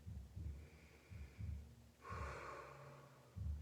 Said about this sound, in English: Maybe take a nice deep breath here.